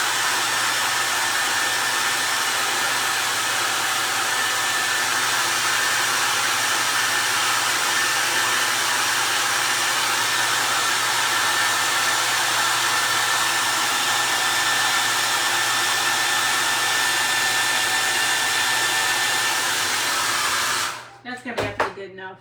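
A hair dryer runs steadily and loudly for about twenty seconds, drying a no-sew primitive Christmas elf stocking craft, then clicks off abruptly with a brief clatter at the end.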